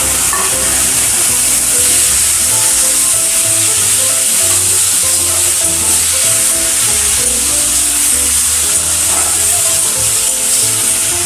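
Loud, steady sizzling of bottle gourd stalks frying in hot oil, a continuous crackling hiss throughout with occasional stirring and no talking.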